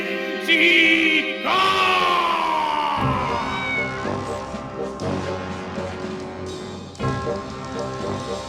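Cartoon kitten meowing in an animated Halloween episode, a high, drawn-out mew rising above music and effects, followed by shorter cries amid busy background sound.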